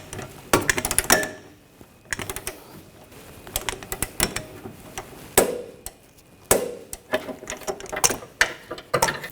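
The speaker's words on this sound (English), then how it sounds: "Now we're going to tighten the inboard upper control arm bolt." A torque wrench tightens the inboard upper control arm bolt on a 2014-2020 Nissan Rogue rear suspension, giving close, bursty ratcheting clicks and clunks in irregular groups with short quiet gaps between them.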